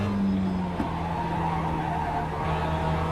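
A race car in a racing video game held at partial throttle, a continuous engine drone with tire squeal layered over it and a brief shift in pitch near the start.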